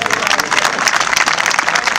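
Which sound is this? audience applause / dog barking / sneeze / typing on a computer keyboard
audience applause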